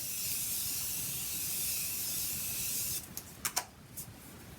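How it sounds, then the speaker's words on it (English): Morphe Continuous Setting Spray mists with a continuous close-up hiss for about three seconds, followed by a few soft clicks and taps. "I'm going to set it with the Morphe Continuous Setting Spray."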